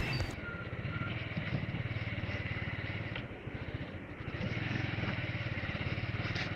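Motorcycle riding with a helmet-mounted camera, the engine's rapid low throbbing mixed with rushing wind buffeting the helmet, loud and continuous throughout.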